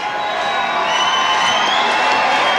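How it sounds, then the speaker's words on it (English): A crowd at a rock concert at the House of Blues, cheering for an encore: a dense, loud, continuous roar of voices and whistles, steady throughout without a break. "As you can hear, the crowd is still going nuts."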